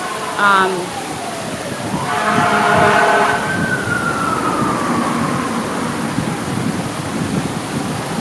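A siren wails and slides downward as it fades into the distance, over steady rushing background noise, with a voice briefly audible.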